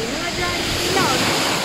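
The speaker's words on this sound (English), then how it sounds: "we come to the beach" At a beach, waves wash in with a broad, steady roar of surf. Voices talk over the water the whole time.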